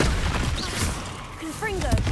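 A Confringo blasting spell in Hogwarts Legacy, a dense, loud burst of booming noise that stays heavy throughout, mixed with short warbling tonal game sounds and a voice in the busy din.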